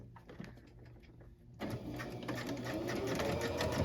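After a quiet, sparse start, a sewing machine starts up and runs steadily and loudly, stitching overlapped elastic together for a dress waistband.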